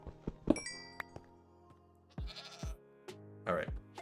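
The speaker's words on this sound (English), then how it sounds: "oh, it was a goat, okay." A goat bleats in Minecraft, giving a few short, wavering cries amid quiet block-breaking clicks and thuds, fairly faint and alone.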